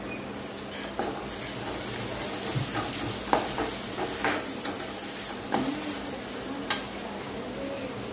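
Ginger garlic paste being stirred into egg fried rice in a hot pan, a steady sizzle with scraping spatula strokes and occasional clinks, with no talk over it.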